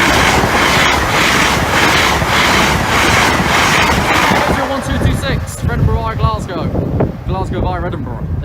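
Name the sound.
train passing a level crossing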